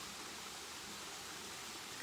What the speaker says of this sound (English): And the waterfall is still very low in terms of volume